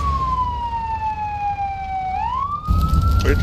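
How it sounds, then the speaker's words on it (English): Fire engine siren in the Firefighting Simulator video game, a loud wail sliding slowly down and then sweeping back up, over a low rumble that grows heavier at the end. "Now the sirens come on."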